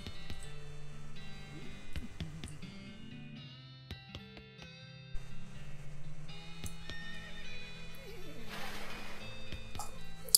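Game audio from West of Loathing with a horse whinnying among layered music and ticking effects, plus clip-clopping hooves, all fairly quiet and busy throughout.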